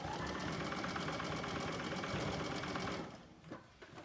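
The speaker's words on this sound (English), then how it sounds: "Basting that initial part definitely helps out a lot." A sewing machine stitches a basting line along a Henley neckband, a loud, fast and steady mechanical whir close by that stops after about three seconds, leaving a few soft handling clicks.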